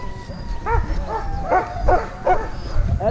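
Sled dogs in Tromso bark in a rapid series of sharp, loud yips and barks close by, about five or six in quick succession.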